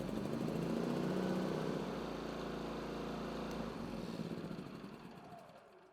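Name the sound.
Polaris P3200iE portable generator starting and running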